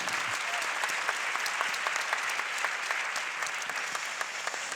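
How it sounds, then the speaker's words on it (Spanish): Steady applause from a crowd, dense and continuous clapping throughout with no pauses. "quiero empezar porque ustedes mismos se den su propio aplauso"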